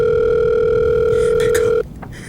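Steady telephone tone heard after dialing 911 on a mobile phone, a loud continuous hum with a higher overtone lasting nearly two seconds, then cutting off abruptly into quiet background noise.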